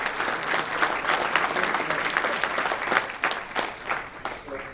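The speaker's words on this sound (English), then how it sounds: "So I want to give a round of applause for them." Banquet crowd claps during a keynote address for the UConn Huskies after their Final Four run, giving a full, sustained round of applause with a few voices mixed in that thins toward the end.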